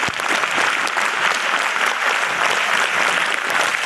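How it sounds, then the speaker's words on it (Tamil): An audience of schoolgirls claps in a school hall, giving sustained, dense applause that stays loud and even throughout with no voices over it. "ஒரு பெரிய கைத்தட்டல் கொடுங்க மேம்"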